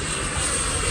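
An E-flite F-16 RC ducted fan jet makes a high-speed pass with a loud, steady turbine-like whine and rushing air.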